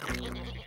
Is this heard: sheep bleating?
yes